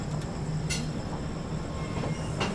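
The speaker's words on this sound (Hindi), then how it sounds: "चलिए निकल चुकी अपनी ट्रेन" Mahabodhi Express pulling away near Pandit Deen Dayal Upadhyaya junction, a steady low rumble of rolling rail cars with a few brief metallic squeals and clicks over it, heard from close by with no talk.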